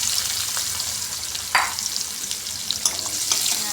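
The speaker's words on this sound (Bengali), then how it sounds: "পাঁচফোড়ন ফোড়নটা নেড়ে নিয়ে পেঁয়াজগুলো দিয়ে দেবো দিয়ে দিলাম পেঁয়াজ" Onions frying with bay leaf, chili and panch phoron spices in a pan for an aloo tomato curry, giving a steady close sizzle with occasional stirring scrapes.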